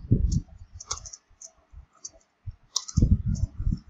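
Close, sharp keystrokes on a computer keyboard come in irregular clusters, a burst at the start, scattered taps in the middle, then another quick run near the end.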